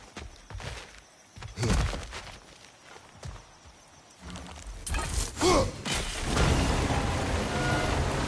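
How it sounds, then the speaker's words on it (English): A dwarven wheel mechanism in God of War Ragnarök turns and a gate lowers: irregular heavy clanks and thuds build into a louder grinding, rumbling rush toward the end. "The wheel's moving and the gate's coming down."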